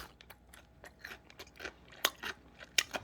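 Crunchy chonggak-mu radish-green kimchi being chewed close to the mic, a run of soft crisp bites building to several louder sharp crunches near the end, with no talking.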